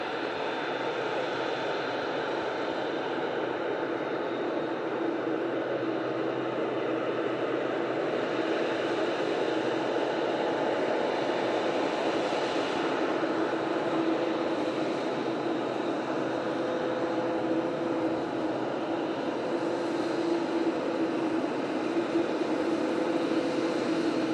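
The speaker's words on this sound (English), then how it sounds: "Dreamliner arriving in after an 8-hour, 40-minute flight from Cancun" A Boeing 787 Dreamliner arrives at Manchester Airport after a long-haul flight from Cancun, its engines a steady, broad, distant roar that holds level for the whole stretch with no voices.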